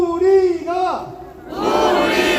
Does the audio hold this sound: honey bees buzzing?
no